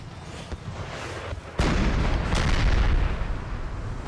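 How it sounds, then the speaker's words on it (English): Howitzer artillery fire in the Napoleon Total War video game, a sudden heavy boom followed by another blast and a long rumbling roar, loud and alone with no talk. "this is where the howitzers came from"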